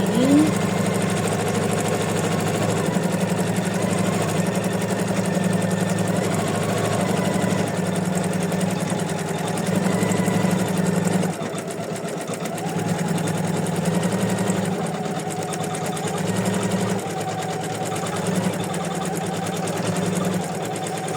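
Embroidery machine stitching decorative stitches for white-on-white in-the-hoop hearts, running fast with a continuous rhythmic mechanical hum and rapid needle chatter, briefly dipping in level midway before resuming.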